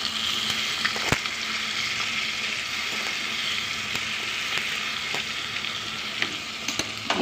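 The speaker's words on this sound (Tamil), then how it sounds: "இப்போ முட்டையை அப்படியே திருப்பி விட்டுக்கலாம்" An egg fries with masala in a pan, sizzling steadily and close, with occasional sharp clicks from a spatula against the pan and no one talking.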